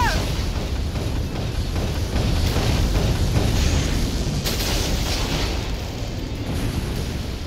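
Cannon fire from a flying fortress's main battery in the video game Sand Land, a dense, continuous roar of booming explosions with steady loudness throughout.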